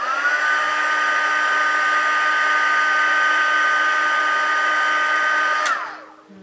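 A heat tool heat-setting paint on a painting, a loud continuous whirring blow with a steady high whine that winds down and cuts off near the end, with no talking.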